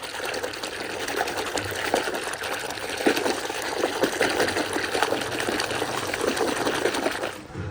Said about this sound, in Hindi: सर्फ को पानी में अच्छे से मिक्स करते हैं।